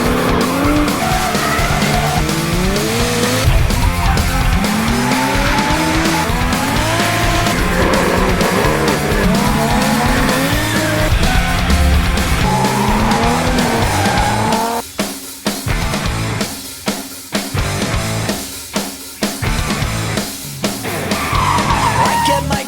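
A car drifting at an extreme driving course, engine revving hard with long wavering tire squeals, loud and close, then choppier bursts of squeal and revs as the slide breaks up.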